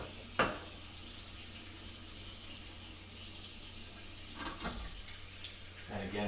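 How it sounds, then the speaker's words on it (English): Shave soap being whipped into lather with a brush, a soft wet swishing texture throughout, with a few sharper clicks or taps near the start and end. "So let me just start whipping up the slather."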